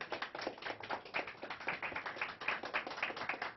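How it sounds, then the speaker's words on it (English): Scattered audience clapping for a VFW post band, quiet and fairly thin, with irregular individual claps rather than a dense roar, lasting a few seconds. "Give them another round of applause"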